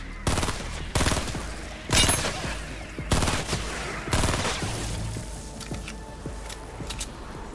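Gunfire in the video game Fortnite Save the World comes in loud, sharp bursts spaced about a second apart, followed by quieter faint clicks and mechanical sounds.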